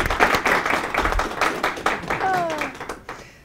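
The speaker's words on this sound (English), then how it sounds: "so let's give a round of applause to Susan." An audience claps in a room after a speaker asks for a round of applause, giving a steady patter of hand claps for a few seconds that fades at the end.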